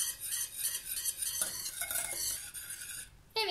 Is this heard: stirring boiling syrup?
yes